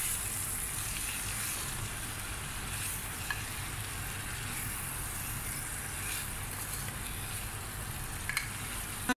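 Leftover chicken frying in a pot, a steady loud sizzle and crackle that continues without pause, with faint stirring and no talking.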